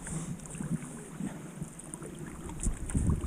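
Surfski wing-paddle strokes on open water in a light headwind, soft rhythmic splashes and swishes under steady wind noise, close by.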